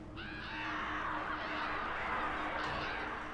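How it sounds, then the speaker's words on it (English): Mutant crows in the Alan Wake video game caw harshly and repeatedly at close range over a steady dark ambient background, with no talk. "Those are freaking mutant birds."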